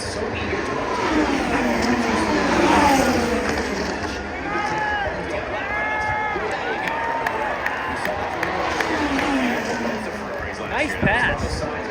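Formula 1 cars at the 2024 Las Vegas Grand Prix scream past in repeated high-revving passes, engine pitch sweeping down as each car goes by, loud and close with crowd noise behind.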